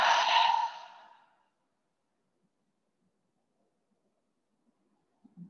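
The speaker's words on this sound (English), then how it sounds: "And exhale everything out." A long, soft, breathy exhale at the end of a yoga session, heard alone up close and tapering off into silence.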